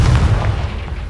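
A Confringo fire spell explodes in the Hogwarts Legacy video game, one loud, deep, booming blast that rumbles and fades over about a second.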